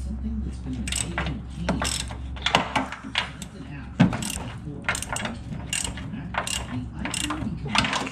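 A socket wrench ratchets a bolt nut on the frame of a 2005 Dodge Ram 2500 while snow plow mounts are fitted. Quick runs of sharp clicks repeat again and again, close by, with a voice mixed in.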